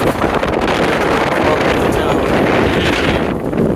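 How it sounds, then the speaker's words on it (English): Strong, steady wind roars and buffets the microphone on a fire tower on the Appalachian Trail, loud and close, with no break in the gusting. "This wind could blow me right off the tower if I didn't hold that staircase."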